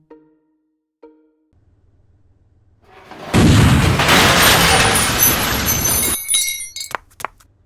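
Captain Atom's ray gun fires in an old black-and-white cartoon. After two small clicks, a loud, noisy blast roars for about three seconds and then dies away into scattered high ringing and crackles.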